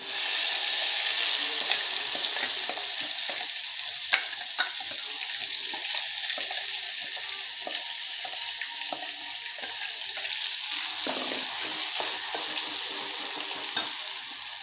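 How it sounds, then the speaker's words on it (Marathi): Brinjal pieces sizzle and fry in hot oil in a home kitchen pan for a Maharashtrian brinjal curry. The hiss stays continuous and fairly close, with scattered spits and crackles and no speech. "टाकूया आपण तेलात टाकूया"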